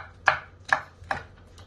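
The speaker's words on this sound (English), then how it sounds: "So I'm dicing these up small." A knife chops hot peppers on a cutting board in three or four crisp, evenly spaced thuds, close and clear, with no voices over it.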